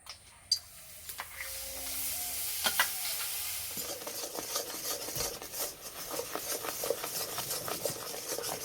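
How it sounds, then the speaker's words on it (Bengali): Sugarcane jaggery heats in a wok (kadai), giving a soft, fairly quiet sizzle with scattered scrapes and clicks of stirring, and a sharp knock near the start. "গুড় ভালো করে জাল দিয়ে নিয়েছি"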